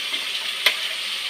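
Ground peanuts tipped into a pan of masala with tomato, onion and dried chilli for masala baingan, giving a soft steady sizzle with one brief scraping stir in the middle.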